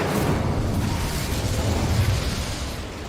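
Incendio fire spell cast in Hogwarts Legacy, a dense, loud whooshing roar of flame that holds steady for about three seconds.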